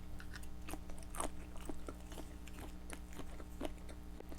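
Shrimp is chewed and crunched close to the mic during a spicy noodle mukbang, with repeated soft bites and crunches over a quiet, steady background hum.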